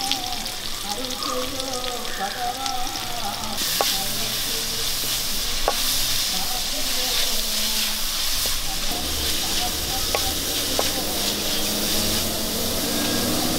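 Chopped onions and two green chillies sautéing in coconut oil make a steady sizzling hiss for the whole stretch, with occasional sharp stirring ticks and soft background murmur, and no clear talk.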